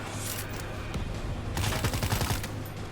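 Rapid bursts of gunfire in the zombie shooter World War Z: Aftermath, a dense run of shots that thickens into a louder volley midway over a steady game hum, with no talking.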